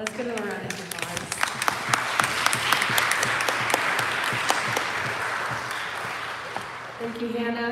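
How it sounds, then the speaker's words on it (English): A Sunday worship congregation applauds, a full burst of clapping that swells and fades over several seconds before a voice speaks near the start and at the close. "Let's get another round of applause."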